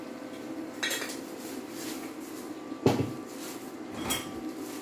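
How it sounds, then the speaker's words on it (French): A pot of cassava leaves being stirred, spoon knocking and scraping against the metal pot in a few separate clanks, one louder strike near the middle, over a low background hiss. "Tournons pour que ça ne se brûle pas en bas."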